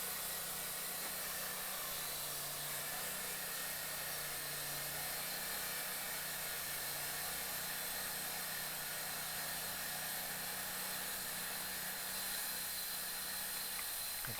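A Wood-Mizer LT40 band sawmill slices a board from a log, a loud, steady broadband whine and roar that continues unbroken with engine drone underneath.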